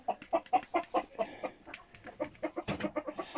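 A sick, chilled hen clucks repeatedly in close, rhythmic bursts, a steady run of short calls handled at close range on a farm in Antalya, with no talk over it.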